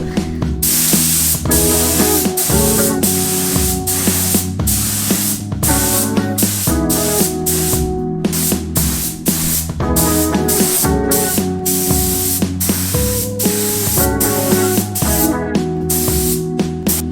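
Clear coat spray-painted onto SSR Minerva wheels, a loud continuous close hiss of the spray gun pulsing with repeated passes, alone without talk.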